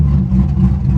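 A Hummer H2 or C5 Corvette at an IAA auto auction runs in gear with the clutch engaged, a steady close engine rumble alone without talk.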